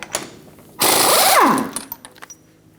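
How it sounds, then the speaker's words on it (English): An impact wrench loosens the front axle nut on a 2005-2010 Toyota Tacoma with a 35mm socket, one loud rattling burst of about half a second with a falling whine as the nut breaks free, then quiet clinks. "remove the axle nut using a 35mm socket"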